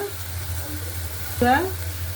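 Spices and salt frying in a pan while being stirred, heard as a faint, steady sizzle under a low hum, with a brief tonal voice-like sound partway through.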